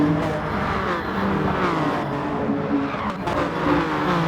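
BMW VGT race cars in a racing video game at Saint Croix, the leading three pulling away from the pack, with loud continuous engine roar, tyre skids and a brief squeal over a constant drone.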